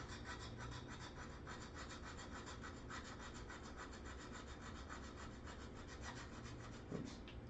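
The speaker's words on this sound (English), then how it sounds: "you just take a diamond hone, lay it on the tool flat, the top of the tool, a couple passes, good and sharp" Carving tool edge rubbed with a few flat passes on a diamond hone, giving a soft steady scraping close by, quiet and continuous with no talk.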